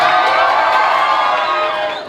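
A crowd at a tasting of spicy Salta-style empanadas cheers and applauds loudly and continuously, a dense wash of clapping and whoops that fades slightly at the end.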